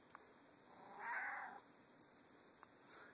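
A hungry cat gives a single drawn-out meow in a quiet room, with a few faint clicks and small noises around it.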